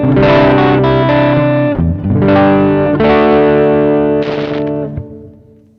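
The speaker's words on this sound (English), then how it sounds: "Sounds like a Fender amp with a Les Paul, doesn't it?" Electric guitar played through a JOYO American Sound pedal set for high gain, distorted chords ringing loud and sustained with brief breaks between strums, fading out at the end.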